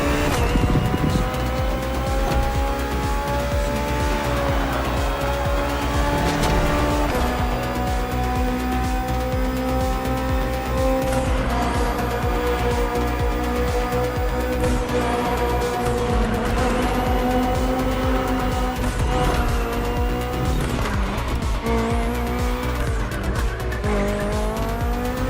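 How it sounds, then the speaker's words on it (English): A BMW M Hybrid V8 endurance race car drives in The Crew racing game, its engine droning loud and continuously with rising and falling revs, repeated gear shifts and tire squeal. "Finally, the BMW M Hybrid V8. What a beast."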